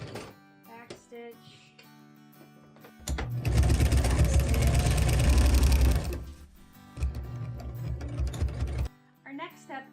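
A sewing machine back stitching along the edge of a weighted blanket, bursts of loud, rapid mechanical whirring between short pauses and clicks, close by.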